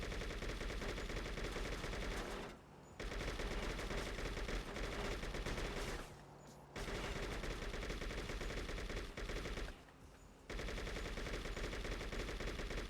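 Rapid automatic gunfire from enemies in the video game True Crime: New York City rattles on in long sustained bursts, broken by three brief pauses, at a fairly low, distant level.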